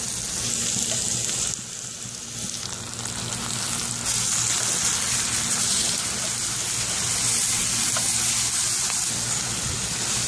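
Ginger, garlic and crushed shallots frying with sautéed onions in a pan for a roasted-coconut chicken curry, giving a steady, close sizzle throughout with no talking.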